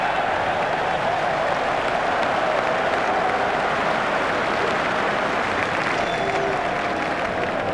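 Cricket crowd at an England versus Scotland one-day international applauding steadily as a batsman is dismissed after making 107, a broad, continuous wash of clapping and cheering that stays loud throughout.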